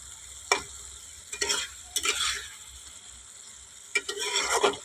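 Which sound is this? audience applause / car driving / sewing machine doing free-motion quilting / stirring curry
stirring curry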